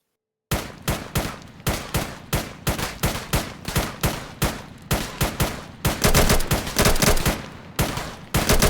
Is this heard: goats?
no